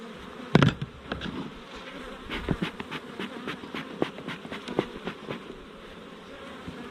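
Honey bees buzz steadily at a beehive, a dense close hum with individual bees zipping past the microphone, plus a few faint knocks and handling sounds.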